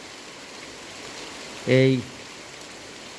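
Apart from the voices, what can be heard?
heavy torrential rain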